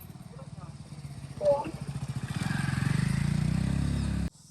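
A motorcycle engine chugs with a rhythmic putter, revving louder toward the end before cutting off abruptly, with a voice briefly over it.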